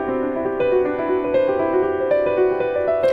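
Piano playing the iconic opening line of a keroncong-free arrangement, a steady flowing melodic figure of sustained ringing notes, close and clear with no voices.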